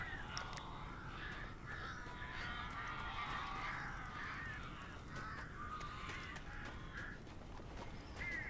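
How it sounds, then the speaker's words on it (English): Crows caw repeatedly in the Alan Wake Remastered video game, a dense, overlapping chorus of harsh calls that runs throughout, loud and close, with no speech over it. "These birds are weird."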